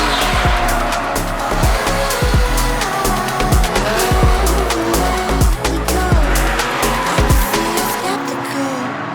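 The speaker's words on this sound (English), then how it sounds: "The level of drifting is unbelievable. These people, it's crazy drifting." Drift cars at a special drifting event, engines roaring loud and continuous with repeated tire squeals and skidding bursts throughout, a busy layered motorsport din close to the listener.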